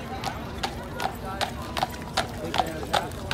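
Horse hooves clip-clop in a steady walking rhythm on pavement, about nine evenly spaced sharp hits close by, with a busy background murmur.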